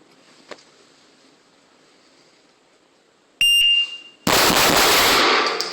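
Pistol shots fired in a timed drill, with a shot timer's sharp beep followed by loud, dense bursts of gunfire that dominate the end of the clip; no talking.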